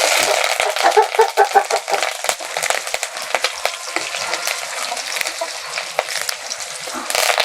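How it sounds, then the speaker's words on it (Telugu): Tempering for tomato dal crackling and sizzling hard in hot oil with curry leaves and chopped garlic, a steady close frying hiss with sharp pops and stirring scrapes, almost no talk. "తాలింపు అయిపోయింది ఇప్పుడు మనము పప్పులో వేసేసుకుందాం"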